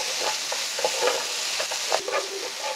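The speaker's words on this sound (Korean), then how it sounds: "다 볶았습니다." Sliced shiitake mushrooms and meat being stir-fried in a pan with bean sprouts for japchae, a continuous close sizzle with scraping stirring strokes, no voices.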